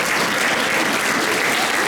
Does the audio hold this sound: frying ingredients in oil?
no